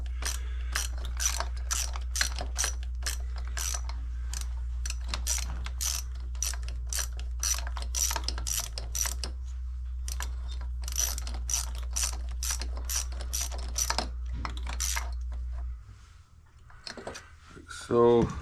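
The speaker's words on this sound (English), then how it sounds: "this bolt should go in here. Just tightening down that manifold." A ratchet wrench tightens a manifold bolt on a 1984 Yamaha Virago 1000 motorcycle, producing rapid, close, crisp clicking in repeated bursts with brief pauses over a low steady hum, then a few final clunks.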